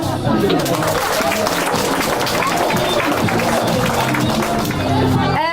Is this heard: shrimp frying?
no